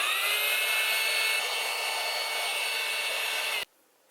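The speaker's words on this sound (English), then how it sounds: "I use this air pump that, you know, comes with like an air mattress" A small electric air pump for an air mattress hums steadily with a bright whine, loud and close, then shuts off abruptly near the end, leaving quiet.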